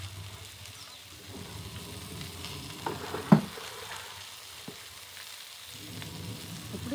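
Ivy gourd pieces roasting in a pan with ginger garlic paste for a Telugu curry, a quiet low sizzle with occasional stirring scrapes and one sharper knock of the spoon near the middle.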